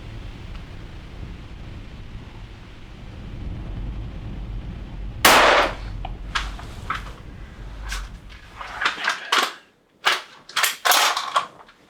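A hunter's rifle fires through a small opening in a window glass at a fox in snowy country: one sharp loud shot following a low rumbling background, then several clicks and knocks of handling.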